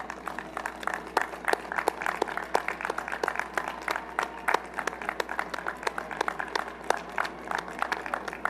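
Graduation crowd in stadium seating applauds at a university commencement, a steady wash of many hands clapping throughout, fairly distant and even with no voices on top.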